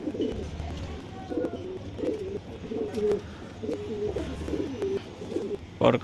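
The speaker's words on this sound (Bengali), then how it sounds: "Standing Payra Sialkoti female." Sialkoti pigeons, including a standing female, coo in repeated soft, throaty phrases at close range, steady and unhurried, with faint background rustle and no talk.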